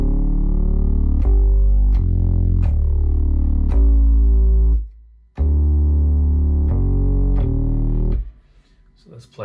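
Deep, booming 808 bass notes land on a steady beat with sharp percussive drum hits, loud and continuous, pausing briefly before the pattern resumes.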